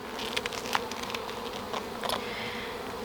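Honeybees buzz steadily around an open hive during an inspection of a new colony's brood frames, a close, continuous hum with a few brief sharper buzzes as individual bees pass near.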